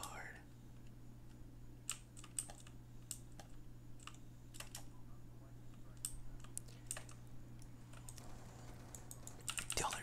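Quiet, close computer keyboard typing during a Call of Duty gaming session, with soft irregular clacks and a few mouse clicks over a low steady hum, alongside faint whispering.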